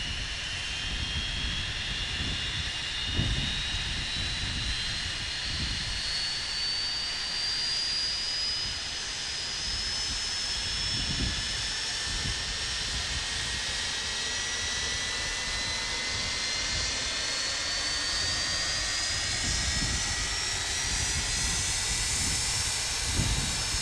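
MD-80 jet engines idling inside a flight simulator, a steady broadband roar with a high whine that slowly drifts in pitch, continuous and unchanging throughout.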